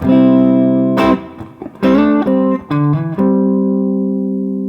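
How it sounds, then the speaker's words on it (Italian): Electric guitar plays ringing two-note chords, sliding between the first pair, then a quick hammered-on note before a long sustained final chord fading out. "aggiungiamo un abbellimento come uno slide tra i primi due double stop, un hammer on veloce prima della nota conclusiva"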